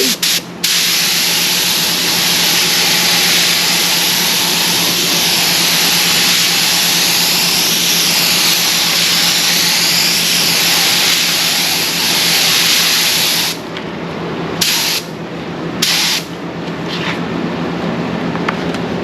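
A spray gun spraying gelcoat hisses loudly and continuously for a long stretch, then sprays in short bursts separated by quiet gaps.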